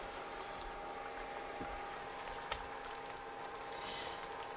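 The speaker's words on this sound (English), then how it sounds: "I'm going to just drop this one back down in that oil." Indian taco fry bread sizzling in hot oil in a shallow pan, a steady soft crackle and bubbling with faint pops scattered through, no voices.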